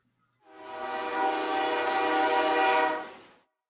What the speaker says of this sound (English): You mind if we see that damn train run through?